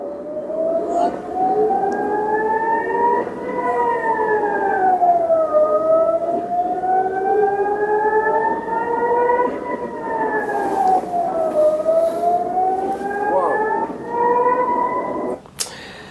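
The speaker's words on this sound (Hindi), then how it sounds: "सायरन इसलिए बजे क्योंकि ईरान ने इजराइल पर मिसाइल दागी थी, तेल अवीव पर मिसाइल दागी थी" Air raid sirens wailing across Israel during an Iranian missile attack on Tel Aviv, a loud rising-and-falling civil defense tone sustained throughout with steady undulating pitch and faint background noise.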